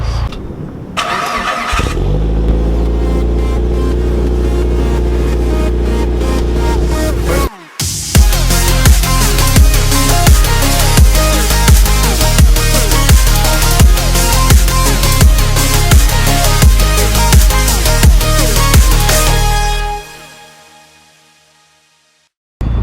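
A Mitsubishi Evo fitted with a high-flow catalytic converter starts up and idles loudly, then accelerates hard past on a residential main road, its engine roaring steadily for several seconds before fading away into the distance.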